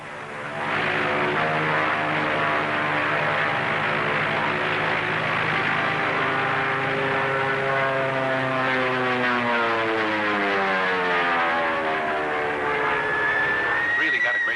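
A propeller airplane from the early 1940s climbing steeply, a loud sustained engine drone whose pitch sweeps and shifts as it pulls away, heard up close and unbroken for the whole stretch.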